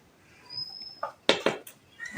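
Flour being stirred into beaten batter in a bowl, heard as a few soft scraping and clinking strokes close by, separate and uneven, in a quiet kitchen with no talk.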